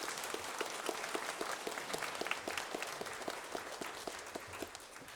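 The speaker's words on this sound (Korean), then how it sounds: "다시 한번 큰 박수로 한번 격려하겠습니다." A church congregation claps in applause for the choir during a worship service, a sustained, fairly faint patter of many hands from across the room, with no speech.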